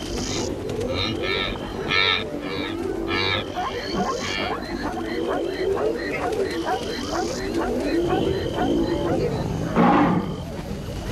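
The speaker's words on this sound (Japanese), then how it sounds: "ハイエナより先にライオンがヌーに襲いかかりました。" Lions bring down a wildebeest at night on the Tanzanian plains, with loud growls, roars and bellowing animal cries layered over continuous narration and a steady background hum, peaking in a sharp burst near the end.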